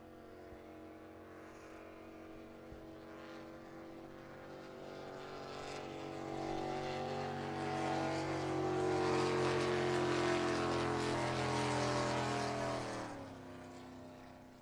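Drag racing boat engines roar at a race, a sustained loud mechanical drone that swells and builds in intensity mid-run, then drops off near the end.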